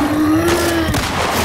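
A pistol fires in The Last of Us Part II, a quick cluster of loud, sharp shots with booming echoes over a steady tonal hum from the game.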